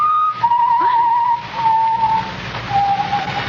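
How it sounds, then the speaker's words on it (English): Someone whistles a few wavering, sustained notes in a 1945 Inner Sanctum radio drama, three drawn-out phrases with short gaps between them, clear and close over a faint hiss. "It's someone whistling"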